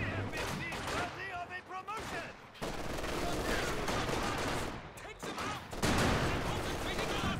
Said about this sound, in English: Rifle grenade combined with some machine gun fire.